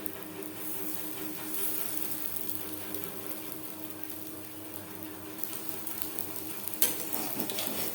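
Matar dal (split pea lentil) fritters frying in a pan of oil, a steady, even sizzle that holds for the whole stretch at moderate level, with a brief utensil clink near the end.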